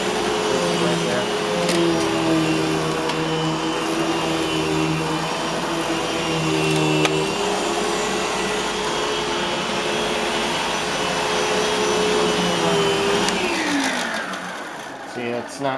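Eureka Boss Smartvac 4870 upright vacuum cleaner running on carpet, its stiff-bristled brush roll giving a steady loud motor whine with shifting pitch, winding down near the end.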